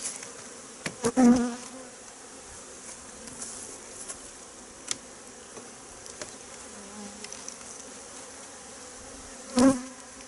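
Honeybees buzz around a honey frame at an autumn apiary, a steady close hum with a couple of louder passes as bees fly right by.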